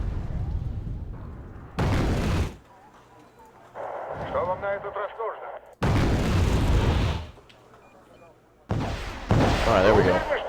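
Missile strikes in the game Wargame: Red Dragon: three loud, blasting explosion bursts with rumbling tails, separated by quieter gaps where a commentator talks.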